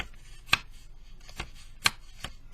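Sharp flicks of cardstock coloring book pages snap out four times at uneven intervals, crisp and close against a quiet background.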